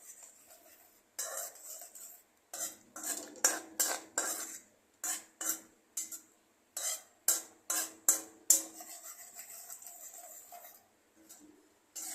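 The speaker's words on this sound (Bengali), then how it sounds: "একটু জল দিয়ে ভালো করে কন্টিনিউ কষাতে হবে, যাতে তলায় লেগে না যায়।" A metal spoon repeatedly scrapes and clinks against a pan as fish curry masala is stirred and fried with a little water, giving quick bursts of sharp clatter separated by short pauses, fairly close and without speech.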